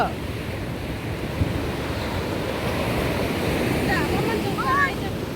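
Ocean waves at Palavakkam beach make a continuous, close wash of surf with rushing wind noise over the microphone and faint chirps near the end.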